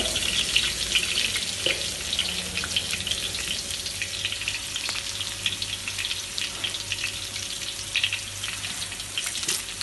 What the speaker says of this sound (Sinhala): මෙතන ජින්ජර් ගාලික් පේස්ට් එක අපි දානවා මේක හැඳි දෙකක්